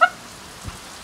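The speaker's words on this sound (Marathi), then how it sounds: "चांगला पाऊस आला" Rain falling in a brief, faint burst, a soft steady patter with a small low thump near the end and no voices.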